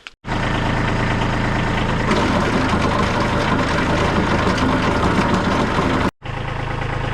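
Kubota B2301 compact tractor fitted with a snow blower cranks briefly, starts, and settles into a steady, loud diesel idle that runs alone, then cuts out abruptly near the end before resuming.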